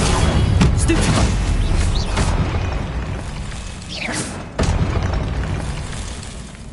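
Spells are cast in the Hogwarts Legacy video game: a dense, rumbling wash of booming blasts, with a sharp burst near the middle and a second surge after it, all loud and close.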